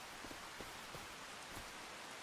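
Steady rain falls in the farming video game Farming Simulator 25, a soft, even hiss of drops with occasional slightly louder patters, faint and continuous.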